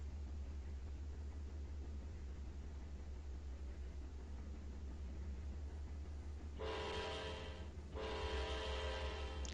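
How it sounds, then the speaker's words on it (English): A train horn sounds twice in long blasts over a steady low rumble of a train rolling past in the Trainz 2019 railroad simulator game. "A little bit late on the horn there."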